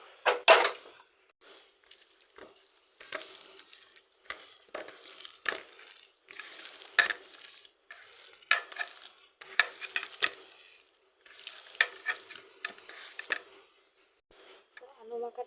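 Mashed potato filling is kneaded by hand with a little turmeric powder for paratha, making soft, close squelching and pressing bursts in an irregular rhythm, with quiet pauses between strokes.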